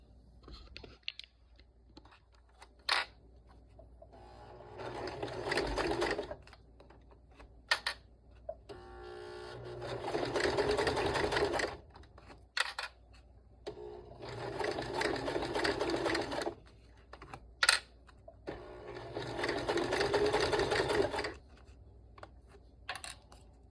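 A sewing machine top stitches a sling bag in several sustained runs of rapid needle chatter, broken by short pauses with clicks and fabric handling in between.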